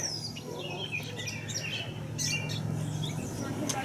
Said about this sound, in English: Nice birds chirping today.